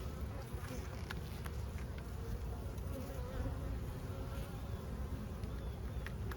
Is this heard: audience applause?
no